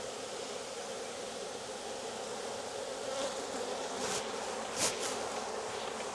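Honeybee swarm buzzing steadily as it enters a hive in Jacksonville, Florida, a dense continuous drone of many bees close by with a few louder passes of individual bees.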